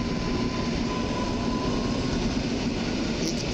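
Passenger train rolling through Warszawa Zachodnia station, a steady loud rumble of wheels on rails with a faint tonal whine, continuous and close throughout with no talk.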